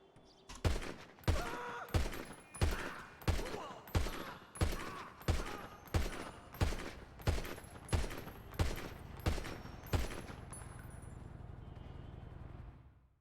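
Pistol fired in Grand Theft Auto V, about a dozen sharp, evenly spaced shots roughly one per second, each with a short decaying tail, followed by a low engine hum.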